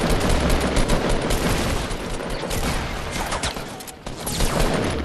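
Sustained automatic gunfire in a Fortnite match, a dense loud fusillade of rapid shots that fills the whole stretch with only a brief dip near the end.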